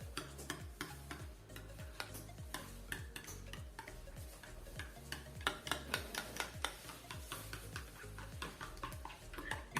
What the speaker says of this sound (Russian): Все хорошо взбиваем.